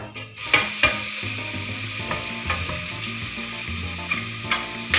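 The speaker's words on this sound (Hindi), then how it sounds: "इसको हम अच्छा सा फ्राई करेंगे ताकि इसका रेड कलर हो जाए" Close, steady sizzling of garlic paste frying in oil, punctuated by periodic scraping stirs and small pops.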